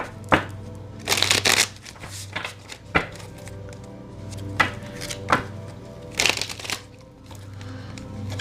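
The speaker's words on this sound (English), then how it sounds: "let me give Honey's pile a shuffle" Close-up tarot card shuffling in repeated bursts: riffled flutters and sharp taps of the cards being squared, with quiet pauses between.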